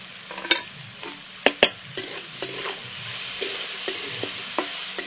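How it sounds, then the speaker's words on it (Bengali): Ginger fries in a pan with a low steady sizzle, punctuated by sharp spatula clicks and scrapes against the metal as it is stirred, close and fairly quiet. "আদাটা দিয়ে ভেজে নিতে হবে আদাটাকে।"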